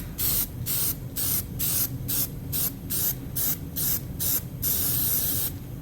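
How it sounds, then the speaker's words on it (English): Aerosol can of general purpose trim adhesive spraying in about a dozen short, rhythmic hissing bursts, close and loud, then one longer continuous hiss at the end. "General purpose trim adhesive spray."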